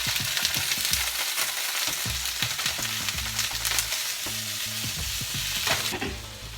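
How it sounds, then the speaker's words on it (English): Vegetables sizzle and crackle in coconut oil in a pan, a loud continuous frying hiss broken by knocks and scrapes of stirring, close up. "I'm gonna start putting my vegetables in here."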